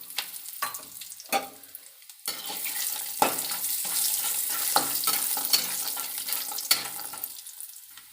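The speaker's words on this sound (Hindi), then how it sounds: "तो अखरोट भी भून गया है" Walnuts being dry-roasted in a pan while making gond ke laddu, with scraping stirs and light sizzling, sharp spatula knocks against the pan early on, then a steadier rustling roast in close view.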